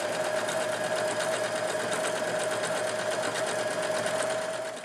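Close and steady, a sewing machine hums through a blanket stitch along the toe and heel edge of a homemade Christmas stocking, with an even, rapid needle rhythm and no talk.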